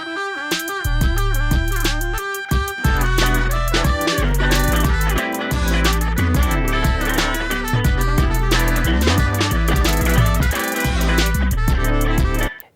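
Trumpet melody layered over a punchy electronic beat with heavy kick and bass, steady drum hits under the brass line, dense and loud throughout, without speech.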